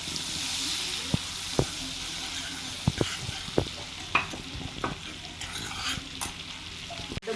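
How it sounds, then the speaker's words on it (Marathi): Butter melting into hot oil in a pan for paneer butter masala, giving a steady close sizzle and hiss with scattered sharp crackles and pops, and no talk. "आधी थोडं ऑइल टाकायचं आणि मग आपण आपल्याला पाहिजे तेवढ्या प्रमाणात बटर टाकून घ्यायचं."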